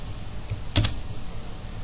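A couple of quick, crisp keystrokes on a computer keyboard while a search term is typed, the pair of clicks landing close together over a low, steady room hum.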